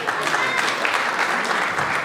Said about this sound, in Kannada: ಜೋರಾದ ಚಪ್ಪಾಳೆ ಅವರಿಗೆ.